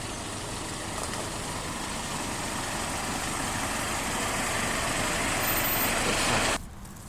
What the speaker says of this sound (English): a fire engine is about to drive past